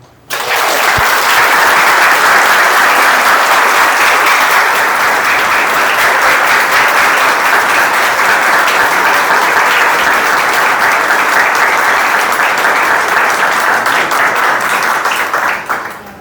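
Sustained, loud applause from a large audience at a spiritist group gathering, steady dense clapping lasting throughout before tapering off at the end, with no voices over it.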